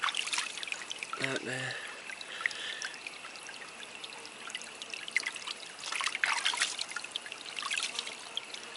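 Water trickles and pours as loose material is washed off a hand while gold prospecting outdoors in Gippsland, a steady close dribble with a brief spoken remark over it.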